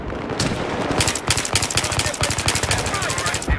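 Rapid automatic gunfire in the video game Battlefield 3, played on the Venice Unleashed mod, as a loud, steady stream of closely spaced shots.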